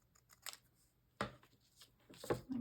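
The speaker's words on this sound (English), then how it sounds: "And cut another strip the same width." Scissors snip through a paper strip for a junk journal: a few crisp, separate cuts with quiet pauses between them, close and clear.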